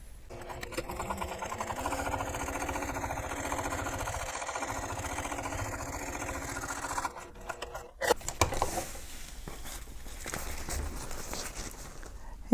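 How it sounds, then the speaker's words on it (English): A sewing machine top stitches along a bag lining panel at an eighth-inch seam allowance with a 4 mm stitch length, giving a steady mechanical whir that runs continuously, with a brief pause and a few knocks near the end. "And you top stitch it using 1/8 of an inch seam allowance,"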